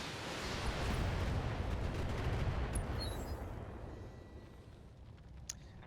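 Missile fire in the video game Thorium Mercs sounds as a loud rumbling roar that swells and then slowly fades, with a couple of faint sharp ticks near the end.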